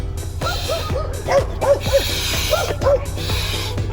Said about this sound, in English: Oh, we have some dogs.